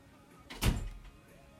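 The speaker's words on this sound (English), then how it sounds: "Close my door." A door closes in a quiet room, a single soft thud with a brief muffled rumble, fairly faint and alone.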